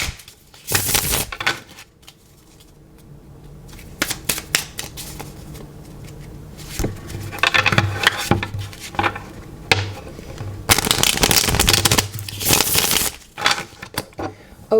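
Repeated crisp riffling bursts of cards being shuffled, several rounds with short pauses between, close and fairly loud with faint background hum.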